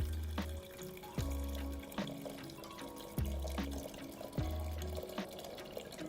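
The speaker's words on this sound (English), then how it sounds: "And then I'm gonna put the hot water in." Hot water runs and splashes into a container while it is being filled, a steady close-up watery rush with repeated splashy bursts and a lower gurgle. No one speaks.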